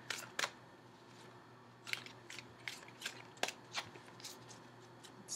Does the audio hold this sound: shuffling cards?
yes